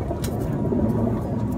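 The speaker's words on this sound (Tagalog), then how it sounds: "ito na yung kalapati ko, ilulod ko na dito" Soft, low cooing from a pigeon, steady and close, with a faint hum of background noise and no talking.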